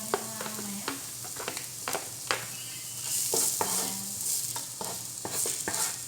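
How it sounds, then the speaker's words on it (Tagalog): Garlic sautéing in a pan for a beef sotanghon dish, with a steady sizzle and frequent scraping and clinking of a utensil stirring against the pan, close and moderately loud. "Start na tayo ulit mag-gisa-gisa ng ating bawang."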